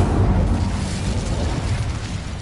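An Incendio fire spell cast in the game Hogwarts Legacy erupts as a loud, dense, rumbling burst of flame that roars steadily and close for a couple of seconds, with no talking.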